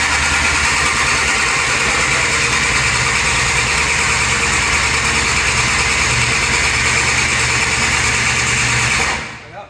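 A pro street quad's engine cranks over steadily with its injectors disabled, a loud, continuous rapid whirring churn close by that cuts off abruptly at the end.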